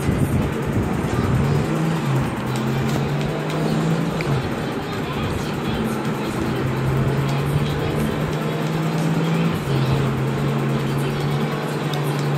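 Car engines race in Need for Speed on PS4, a loud, continuous drone whose pitch climbs and holds through repeated gear shifts, with no speech heard.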